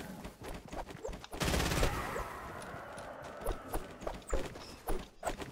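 A rapid burst of SMG fire in an online shooter game rips out loud for about half a second, surrounded by scattered clicks, footsteps and small in-game impacts.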